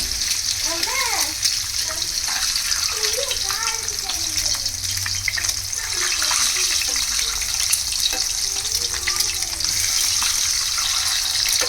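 Eggs fry in hot oil with a steady bubbling sizzle and a watery spatter. Voices talk over the frying, including what sounds like a child.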